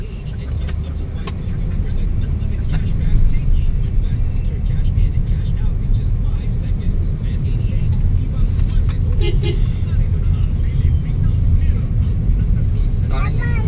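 A car rolls past on a highway near a U-turn slot, a broad low rumble swelling and holding steady for several seconds, with people talking nearby over the road noise.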